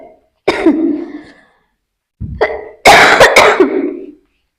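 Several loud, close harsh coughs from a lingering cough come in separate bursts, the last a rapid cluster of hacking coughs, with silence between them.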